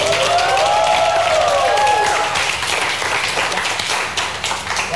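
A group claps in applause for a student named Non who is called up to speak about wanting to study engineering, steady crowd clapping under a sustained musical tone, fading slightly toward the end.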